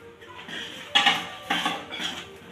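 A spoon stirs peanuts into hot jaggery syrup in a metal pan for chikki, with quick scraping and clinking strokes in a few bursts, close and moderately loud, and no talking.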